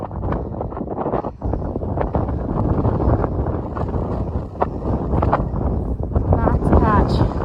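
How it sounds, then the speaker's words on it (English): Strong wind roars across an exposed Appalachian mountain summit on a wind advisory day. It buffets the microphone loudly and without a break while a person talks over it. "There's a wind advisory today."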